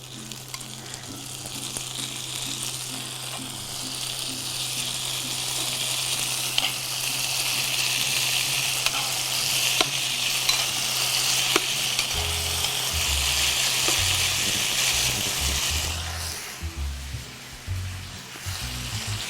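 Beef sears in an oiled pan over high heat, giving a continuous hissing sizzle at moderate level with a low hum beneath, and a few clattering pan and utensil knocks toward the end.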